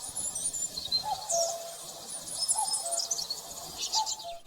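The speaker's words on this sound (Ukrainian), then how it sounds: "цілоденно чути різні пташині пісні" Birds sing and chirp in bright, scattered phrases, with a lower cooing call recurring now and then, over a soft outdoor background.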